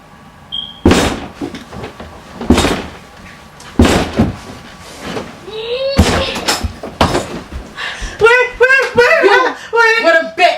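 A door is opened amid a tense domestic confrontation, with several loud thuds and bangs spaced through the scene, followed by agitated shouting and raised voices.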